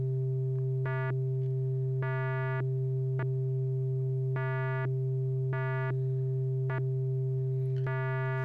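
Arturia Modular-V software synthesizer pulse wave whose width is swept by a sine LFO: a steady buzzy drone with bright harmonic bursts that swell and cut off in a regular repeating rhythm, loud and alone.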